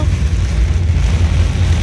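Torrential rain drums on a waterlogged Dhaka street in the morning, a thick, unbroken wash of noise that is loud and close with low rumbling beneath.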